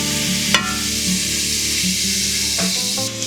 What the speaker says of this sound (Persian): گوشت قرقلیا رو هم به همون مایتابه‌ای که داخلش پیازو سرخ کردم اضافه میکنم